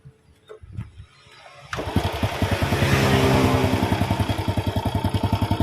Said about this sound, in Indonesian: Saya nyalakan menggunakan engkol dulu Kang Bro